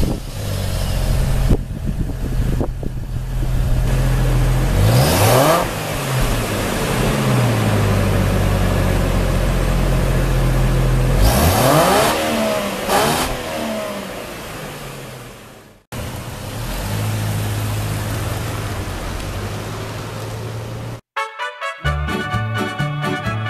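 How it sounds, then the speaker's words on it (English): A Saab 9-7X SUV on the move, its engine note steady over road and tire noise with a couple of rising acceleration sweeps, heard from inside the cabin and fairly loud throughout. "it's time to take it for a drive."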